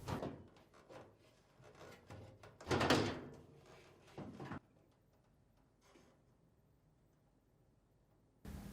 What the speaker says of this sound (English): lift up on the panel to release it from these 2 retaining tabs